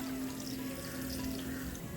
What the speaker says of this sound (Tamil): இப்போ இதுக்கு அளவாக தண்ணி விட்டுருலாம்